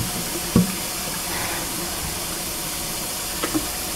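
Water runs steadily and softly from a tap during a Yorkie puppy's bath, with a couple of faint knocks and splashes against it.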